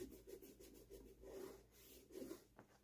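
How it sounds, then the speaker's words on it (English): A damp cloth rubbed along the leather midsole edges of 40+ year old Timberland boots with Vibram rubber units: quiet, rhythmic back-and-forth rubbing strokes, about six in a row, close up. "we'll rub the edges"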